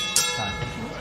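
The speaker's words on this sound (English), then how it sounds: "Listen for that bell, gentlemen." A ringside bell clangs once, bright and ringing, during a professional boxing bout between featherweights Mark Magsayo and Eduardo Ramirez, then rings out over a steady arena hum.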